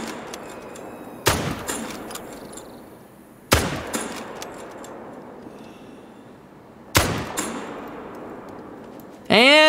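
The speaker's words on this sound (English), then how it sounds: "I'm about to shoot something." Three loud rifle shots from a .303 in a hunting video game crack out several seconds apart, each decaying into a ringing tail over ambient background, with a short metallic bolt-like sound at the very end.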